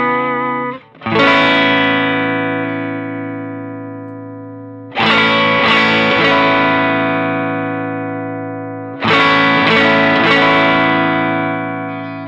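Electric guitar through a Sencha Drive Tube Screamer-style overdrive with asymmetrical clipping: three sustained, harmonically rich open chords struck about four seconds apart, each ringing out and slowly decaying, loud and clear with no voices.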